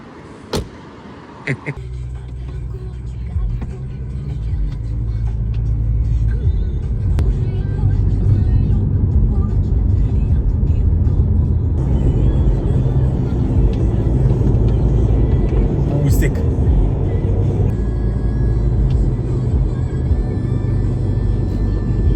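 Car pulling away with a family aboard, a door shut just before; low engine rumble builds steadily and stays loud and close inside the cabin for about twenty seconds, with faint voices under it.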